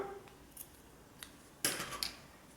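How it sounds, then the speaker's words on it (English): Scissors snip a crochet yarn tail, a couple of quiet, brief crisp cuts close by with faint ticks before them and no speech. "You can cut your yarn tail,"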